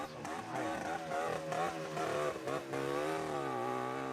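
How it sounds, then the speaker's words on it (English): A vintage 125 motorcycle rides past, its rough, buzzy engine note rising and falling in pitch through gear changes, loud and close throughout. "Here's a motorcycle 125 vintage. Pass by. That sounds horrible."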